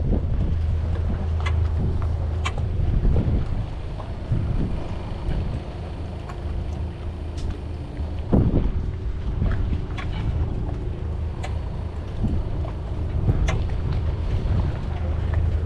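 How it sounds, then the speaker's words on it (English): Strong 25-knot wind buffets the microphone while a boat docks in a tight Croatian marina, a low rumbling roar with gusts and occasional clanks, and voices talk faintly at times. "And the wind is adding more speed."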